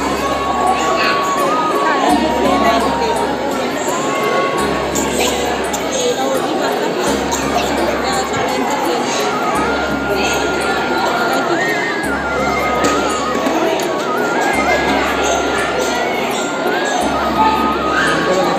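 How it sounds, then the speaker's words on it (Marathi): Dense crowd noise at Jivdani Mata temple, a continuous din of chatter and shouting children with cheering, plus a steady low rhythmic thumping pulse repeating throughout. "भरपूर गर्दी आहे."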